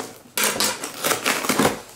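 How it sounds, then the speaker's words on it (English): A big knife cuts and scrapes through packing tape on a small package, a close series of crisp ripping and scratching strokes after a brief quiet start. "Cut the tape off, or just dig through it, one of the two."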